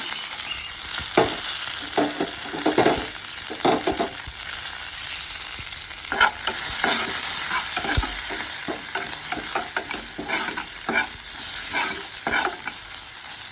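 Crushed cumin, dried red chili, garlic, ginger and curry leaves frying in hot oil for a moru curry, a steady close sizzle with irregular spatters and stirring scrapes throughout.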